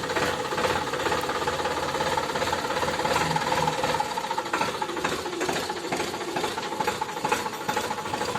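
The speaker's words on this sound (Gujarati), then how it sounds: "હવે આપણે ટ્રેક્ટરને ડેલા અંદર આપણે મૂકી દઈએ।" A tractor engine runs steadily as the tractor is driven inside a gate after its tines are fitted for sowing, giving a loud, continuous mechanical clatter with a rapid knocking rhythm and no voices throughout.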